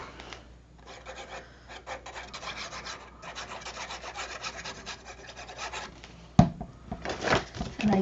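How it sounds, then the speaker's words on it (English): Paper is folded and a crease burnished for a handmade folio, a dry, steady rubbing and scraping close up, with a sharper crisp swipe near the end and no talking. "fold and burnish."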